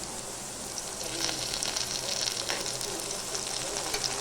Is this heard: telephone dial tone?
no